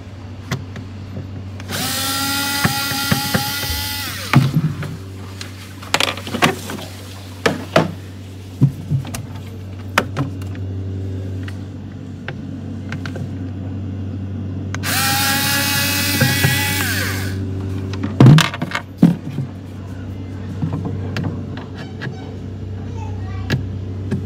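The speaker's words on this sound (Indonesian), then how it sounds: "sekarang saya akan coba buka baut di bagian tiga sisi ini" A power drill whirs in two long bursts while unscrewing bolts from the panel of a Polytron two-door refrigerator, with clicks, taps and handling clatter between them over a constant low hum.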